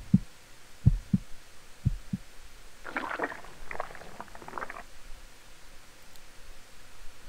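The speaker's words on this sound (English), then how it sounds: "This is a heartbeat." A heartbeat in the Parasite Eve video game thuds in slow, muffled double beats, followed by a low rumbling, throbbing swell and then quieter ambience.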